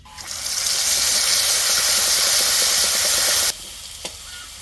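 Dried red chillies, bay leaves and cumin paste hit hot oil in a Bengali small-fish curry pan, a loud, steady broadband sizzle that runs for about three seconds and then drops sharply to a quiet simmer with a faint clink.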